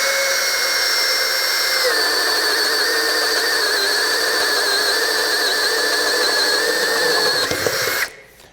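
A Metabo HPT 18V MultiVolt hammer drill (DV18DEX) on low speed bores with a 1 3/4 inch bit, a loud steady whine with a slight pitch drop partway, then cuts off abruptly near the end.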